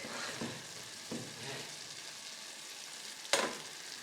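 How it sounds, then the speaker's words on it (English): A spoon stirs vegetable soup with kale and garlic in a pot, giving a soft simmering hiss and a few muffled scrapes, then one sharper clink near the end. "Give it a good stir"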